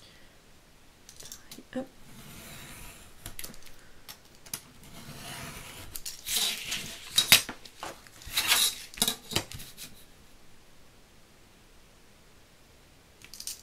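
Scissors cutting through paper card while making a vintage Christmas shaker card, a cluster of close crisp snips and rustles in the middle, with a brief spoken word near the start.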